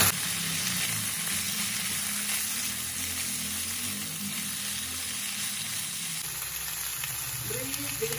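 Anchovy skins sizzle and fry in a wok for a balado dish with tomato sauce and stink beans, a steady close hiss with faint stirring throughout and no talk.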